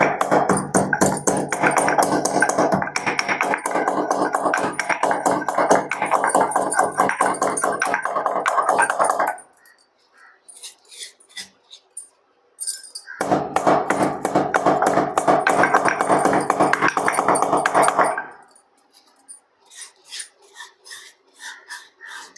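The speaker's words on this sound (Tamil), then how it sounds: "ஒரு இடிக்கிற கல்லில் போட்டு நல்லா எடுத்துக்கலாம்" Pepper, cumin and garlic are pounded in a stone mortar for raw tamarind rasam, with rapid, loud, steady grinding thuds in two long bursts separated by a brief quiet pause.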